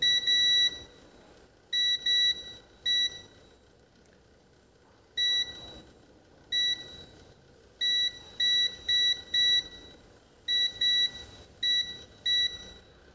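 A multimeter's continuity buzzer beeps repeatedly while a Redmi Note 7 Pro's coil is checked for shorts, giving sharp, bright tones in short bursts and clusters, some single and some doubled, with gaps of quiet background between them.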